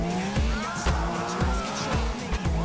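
A car driven in the video game GTA IV roars at steady revs with repeated tire squeals and skids, a close, continuous engine drone with faint talk underneath.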